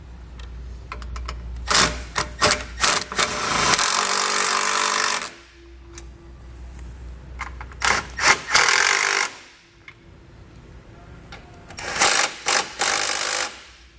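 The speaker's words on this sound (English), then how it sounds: "we'll come back with a 10mm socket and tighten up all of the hardware holding our washer tank in." A 10mm socket on a ratchet tightens the hardware holding the washer tank on a 2020 Chevrolet Equinox, with bursts of rapid clicking ratcheting and short mechanical rattles separated by pauses, close and without talk.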